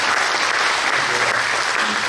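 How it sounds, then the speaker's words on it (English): An audience at a talk on World War II bomber escort and air combat over Europe claps for a speaker, a loud, dense burst of applause filling the room without pause. "Give him a round of applause."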